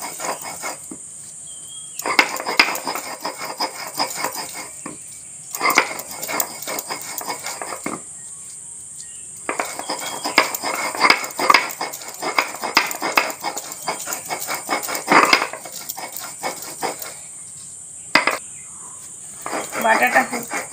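Fried ridge gourd peel and green chili are ground by hand on a flat grinding stone, making repeated rasping scrapes in rhythmic bouts separated by short pauses over a constant high background hiss.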